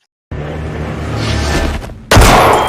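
A loud gunshot in an action film scene, a sudden sharp boom that cuts in after a stretch of rumbling cinematic sound, with no talk over it.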